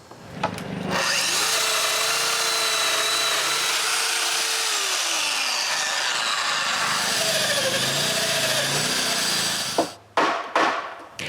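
A domino joiner power tool cuts mortises into wood planks for a pair of cabin shutters. Its loud, steady whine runs for about nine seconds, then stops, followed by a few short knocks and clicks.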